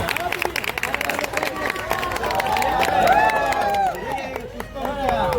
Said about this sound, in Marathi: हे जोरात टाळ्या वाजवा सगळ्यांनी